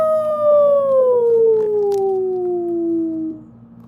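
A single human voice imitates a wolf howl, one long sliding note that starts high and falls slowly for about three seconds over a low steady background hum.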